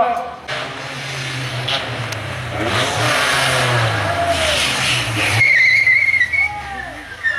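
Three stunt cars driving on the track at a stunt show in St Servant sur Oust, each carrying a balancing stuntman, engines droning and rising under a loud announcer's voice and crowd noise.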